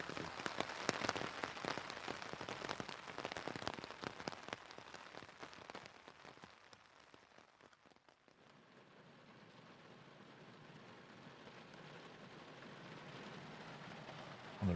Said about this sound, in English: the rain is still pounding down